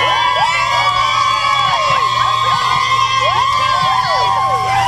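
A community crowd cheers and whoops loudly as elementary students walk into school, with children's shouts and high whistles and cries rising over a continuous roar.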